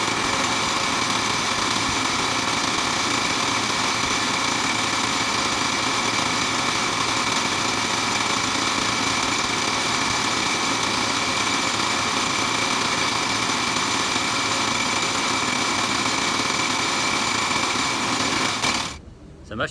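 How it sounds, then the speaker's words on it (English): A vibrating sand sieve shaker for sifting sandblasting garnet runs steadily and loudly for almost twenty seconds with a constant mechanical buzz and rattle, stopping abruptly near the end. "So most of the time the sand jiggler works pretty well. I suppose its main job is to create as much vibration as possible"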